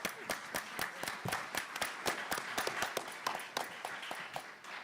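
An audience applauds a Senator with sparse, distinct hand claps from a modest indoor crowd. The claps come in a steady, uneven patter of sharp individual slaps at moderate volume.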